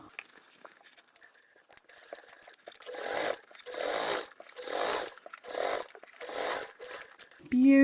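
A sewing machine top stitches a lower exterior panel of a crossbody flap bag in five steady bursts of a few seconds each, separated by short pauses, close and moderately loud, with light handling clicks between runs.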